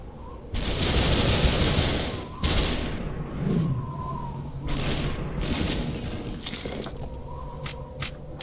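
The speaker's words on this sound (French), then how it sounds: "Voilà, le fusil d'assaut, ça tire des rafales." An assault rifle firing bursts in the video game SUPERHOT, loud close blasts with booming decay, an opening sustained volley followed by sharper separate shots and mechanical clatter, with no voices.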